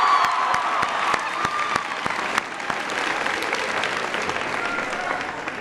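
An audience applauds a student introducer at a presidential education event, sustained hand-clapping from a sizeable indoor crowd that starts strong and slowly thins out.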